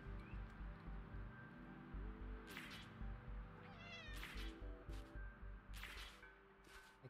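A kitty in the video game Wuthering Waves meows several times in short, rising calls over looping in-game music, near and clear, with no talking.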